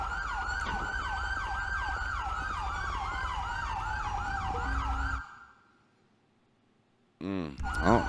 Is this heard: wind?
no